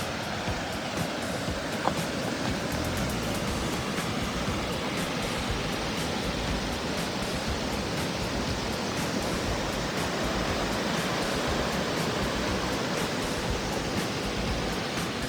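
A clear river flows steadily past boulders, mossy banks and trees beside Icehouse Reservoir, making a constant broadband rushing wash that stays even and fairly soft throughout, with no voices.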